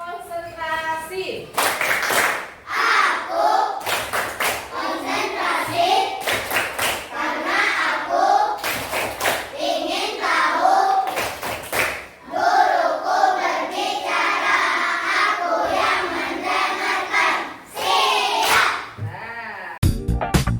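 A group performs the tepuk konsentrasi clapping pattern, with clustered bursts of crisp claps recurring in rhythm between stretches of chanted speech, loud and near throughout.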